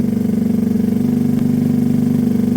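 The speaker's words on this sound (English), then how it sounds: "I'm going to let it idle for 5 to 10 minutes anyway" A Keeway RKV 125 motorcycle idles with the choke on, its engine producing a steady, fast, even putter that is close and loud, with no talking.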